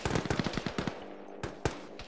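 Automatic gunfire in the ArmA military game, a rapid burst of sharp cracks followed by scattered single shots and a short final volley, loud and close with no talk.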